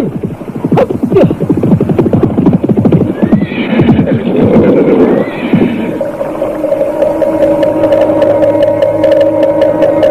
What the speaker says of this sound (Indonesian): Untuk naik ke bukit itu, kuda-kuda harus diistirahatkan lebih dulu